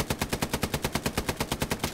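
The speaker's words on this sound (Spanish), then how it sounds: "Yo estoy disparando para el sur" Machine gun fire in Hell Let Loose, a steady, rapid burst of about twenty close, loud shots in an even rhythm, with no pauses.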